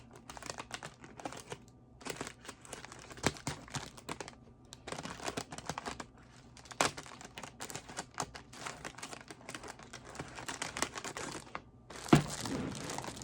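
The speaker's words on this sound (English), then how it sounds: "I cut a X shape in the bag." Plastic bag being cut into an X shape, soft crinkling and snipping bursts at close range, quiet and irregular, with a louder rustle near the end.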